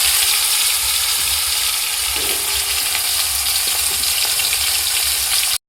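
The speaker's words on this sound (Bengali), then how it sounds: "দেখো আলুগুলো এরকম বেশ সুন্দর ভাজা ভাজা হয়ে এসছে" Potatoes fry in hot oil for a vegetarian pointed gourd (potol) curry. A loud, steady, close sizzle runs throughout with occasional stirring clinks.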